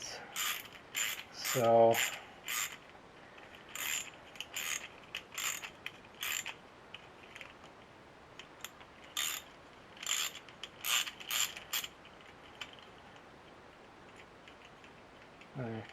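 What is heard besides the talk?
chasing screw threads with a tap and ratchet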